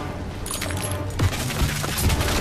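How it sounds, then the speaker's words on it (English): Artillery barrage in Call of Duty WW2, with a volley of gunfire and heavy impacts sounding across a couple of seconds, several sharp blasts standing out over a steady battlefield rumble. "Get down! Artillery barrage!"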